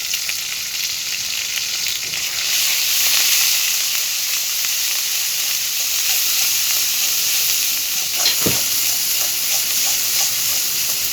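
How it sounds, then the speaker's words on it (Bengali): Ground spice paste with turmeric and salt fries in hot oil, making a loud, even sizzle and hiss nearby. A single knock of a utensil lands near the end. "মশলা আমার ভালোভাবে ভাজা হয়ে গেছে।"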